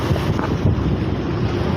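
A fishing boat running out to sea near Buyan, with strong wind buffeting the microphone over the steady engine and rushing water, loud and continuous throughout.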